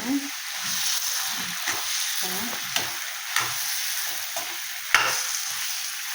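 Fresh prawn curry with tomato gravy is stirred in a pan over gentle frying. A steady sizzle is broken by repeated scraping strokes and a few sharp clicks of the spoon against the pan.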